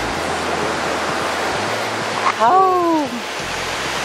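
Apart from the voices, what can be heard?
waves crashing against a lone sea rock off Jeju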